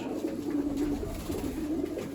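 Pigeons coo steadily and close by, a low continuous murmur of several fancy pigeons, with no talk.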